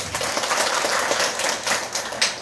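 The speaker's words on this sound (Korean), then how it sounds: "믿는 사람만 박수 한번." A church congregation claps together during a Sunday sermon, a brief dense burst of many hands that holds steady for a couple of seconds, with no talking.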